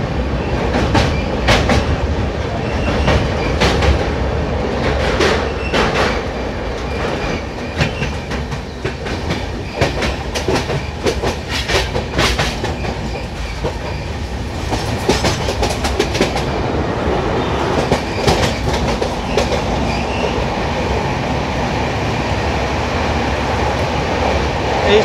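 The 12378 Padatik express rolls along the rails, a loud, steady rumble with rhythmic clickety-clack of wheels over joints and occasional rattles heard from on board.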